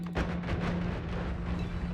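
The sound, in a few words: big explosions in a video game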